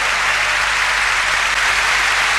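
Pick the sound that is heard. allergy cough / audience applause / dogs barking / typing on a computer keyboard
audience applause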